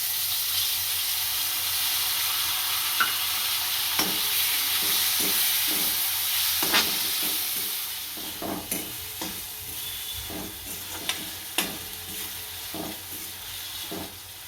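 Tomatoes are stirred into a hot pan for a Gujarati papad and chili curry, giving a steady sizzling hiss broken by repeated scraping stir strokes. No one speaks.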